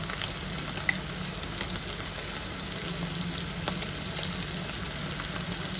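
Chicken pickle sizzles and fries in a pan for Schezwan fried rice, a steady low crackling hiss with faint stirring scrapes and a couple of small pops, close and continuous with no voices.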